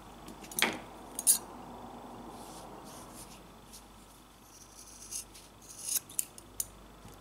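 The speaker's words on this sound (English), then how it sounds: "now we're going to cut through right here in the center" Scissors snip through a yarn tassel at the centre, giving a couple of sharp, close cuts early on, followed by lighter rustling and handling of the yarn, quiet overall with no speech.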